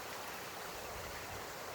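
A swollen farmland stream rushing after heavy rain, heard as a steady broadband roar of flowing water, fairly distant and even, with no voices.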